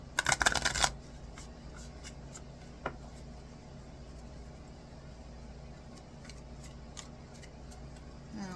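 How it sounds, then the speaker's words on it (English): A quick burst of tarot card shuffling, a brisk riffling flutter lasting under a second, followed by a quiet room with a faint soft tap. "And as usual, one more shuffle,"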